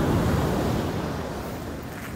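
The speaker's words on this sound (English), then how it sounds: "So beautiful. Look at those waves." Ocean waves wash onto a beach in a steady, broad roar of surf mixed with wind noise on the microphone, fading slightly over a couple of seconds.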